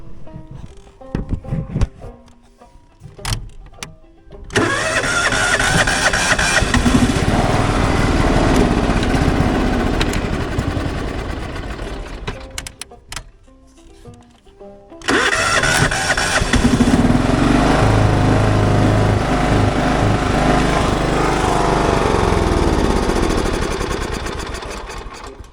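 A John Deere GT 275 lawn tractor engine runs with the choke on, a loud, rough motor roar that surges and cuts out briefly before picking up again, with a lower uneven drone later on.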